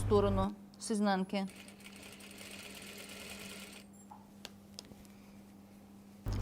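A sewing machine top-stitches a 1 mm seam on a cashmere jacket, its steady low motor drone running on after a short stretch of talk, with a few small ticks and clicks near the end.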